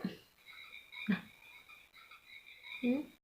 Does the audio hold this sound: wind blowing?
no